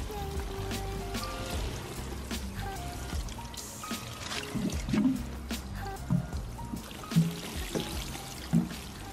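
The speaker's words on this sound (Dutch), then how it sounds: "En nu ga ik even al mijn plantjes water geven in de tuin." Garden plants being watered, splashing and trickling water poured in uneven bursts outdoors, with quieter gaps between pours and faint background noise.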